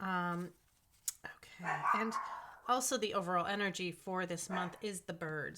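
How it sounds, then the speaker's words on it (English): A dog barks and yips in the background while a person talks continuously in the foreground. "Sorry for the dogs barking in the background."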